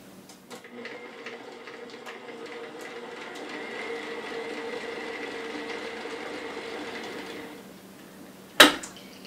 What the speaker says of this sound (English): I'm going to cream the peanut butter in with the sugar and the butter